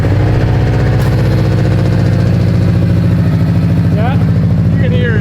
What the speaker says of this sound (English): Oh yeah, it's knocking.